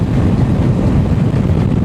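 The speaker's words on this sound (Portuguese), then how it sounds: "o vento tá forte, tá bem forte" Strong wind gusts buffet the microphone on a desert road near Fiambalá, Argentina, a loud, continuous low roar that rumbles and surges without break.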